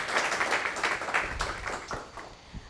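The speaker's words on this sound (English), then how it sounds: "shall we give him another round of applause" Audience applause at a workshop session, a dense spread of hand claps fading slightly toward the end, heard near and alone without talk.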